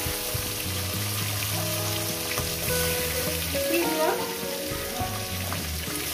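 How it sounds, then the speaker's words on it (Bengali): Fish heads fry in oil with a steady close crackling sizzle, a bright spattering hiss throughout while tonal background music plays underneath. "মাছের মাথাগুলো সুন্দর করে একটু লাল লাল করে ভেজে নেব।"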